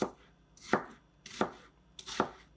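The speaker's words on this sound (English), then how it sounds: "I'm just going to go ahead and finely chop these into, again, small rectangles" A knife chops food finely into small rectangles on a cutting board for a tortilla-wrapped omelet, giving three quiet, evenly spaced pairs of crisp close taps.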